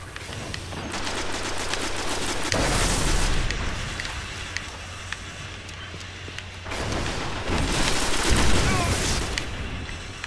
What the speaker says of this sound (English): Is that a grenade?